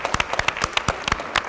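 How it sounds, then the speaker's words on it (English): Audience clapping at a Constitution Day conference for educators who have stood up, sharp individual claps in an uneven burst, fairly close and moderately loud. "Let's give you a round of applause."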